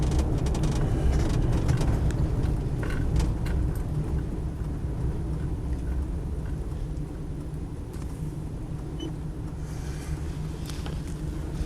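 Steady low rumble inside a Land Rover Defender 90 50th Anniversary rolling over a bumpy road, with occasional knocks and rattles and a constant wind-like roar.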